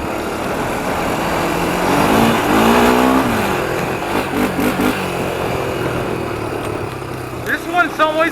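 A 1993 Honda 300EX ATV is ridden in second gear against its rev limiter, its engine loud and close with a sustained buzzing roar that rises and surges; a voice speaks over it near the end.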